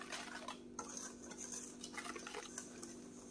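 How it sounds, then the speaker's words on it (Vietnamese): A spoon scrapes and stirs French apple cake batter by hand in a bowl as flour is mixed in, with soft, repeated clinks and swishes, quiet and close, no talking. "Quậy lên."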